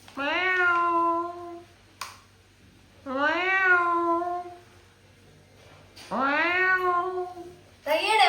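A cat meows three times, long drawn-out cries spaced a few seconds apart, loud and close with quiet between them.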